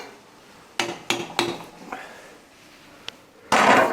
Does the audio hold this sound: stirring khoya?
yes